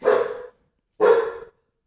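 Two loud, drawn-out dog barks, each about half a second, separated by a short pause, close and clear with nothing else around them.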